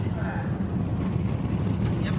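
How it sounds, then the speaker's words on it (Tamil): Wind rushes through an open vehicle window on the way to Thiruchendur temple, a steady loud rumbling roar with airy buffeting that continues throughout. "ஜன்னலை திறந்ததுக்கு எப்படி காற்று அடிக்குதுன்னு பாருங்க."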